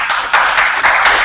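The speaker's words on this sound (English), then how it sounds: "Another round of applause for Zach." Dense audience applause, a steady wash of many hands clapping together, loud and close, swelling slightly partway through.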